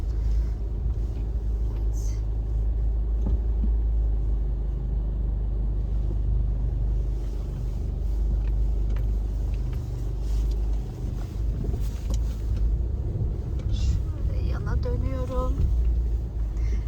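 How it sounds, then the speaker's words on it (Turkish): A car rumbles steadily while it is driven, heard from inside the cabin as a low, constant drone. Someone talks over it the whole time. "Bir yandan da araba kullanıyorum."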